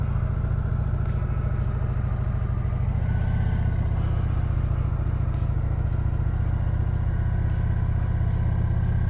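A motorcycle engine hums steadily while the bike is ridden slowly for balance, a close, constant low drone with a slight shift in pitch partway through as the throttle changes.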